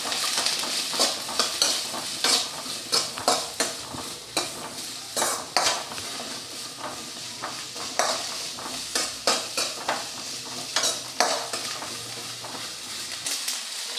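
Onions frying in a pan for an egg masala gravy, a continuous sizzle broken by rhythmic scraping strokes of a spatula against the pan, close and fairly loud, no speech.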